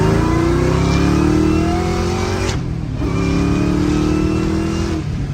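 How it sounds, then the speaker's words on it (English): A supercharged Ford Mustang fitted with Whipple open air boxes revs loudly up close, its rising supercharger whine over a deep engine roar, dipping briefly mid-clip before climbing again. "They definitely give it some more induction noise as well as some more supercharger whine"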